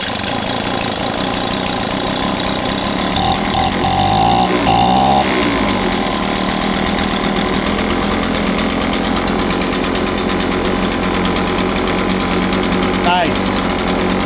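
A two-stroke Echo leaf blower engine runs after being revived, a loud, buzzing, slightly uneven idle close by with a brief throttle change partway through; someone talks over it at points.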